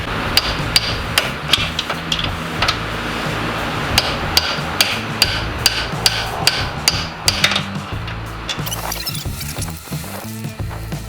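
Hammering out the front axle on a 1995 Nissan Skyline GTR with a leaking axle seal, a long run of evenly spaced, sharp metal strikes, loud and close over a busy garage background, stopping near the end.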